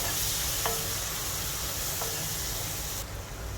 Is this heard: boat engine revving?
no